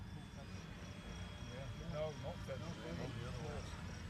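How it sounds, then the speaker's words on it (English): Remote control model Spitfire airplane flying at a club field, a faint whining engine drone that rises and falls as it passes at a distance, with people talking over it. "That's a Spitfire."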